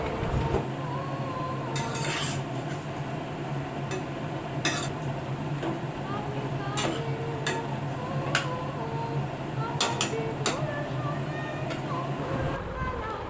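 Chicken, spices and fried potatoes being stirred together in a pan for malai chicken: steady scraping and stirring over a constant low sizzle, with occasional sharper clinks of the utensil against the pan.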